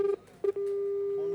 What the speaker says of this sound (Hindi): इनका नंबर हम रिडायल कर रहे हैं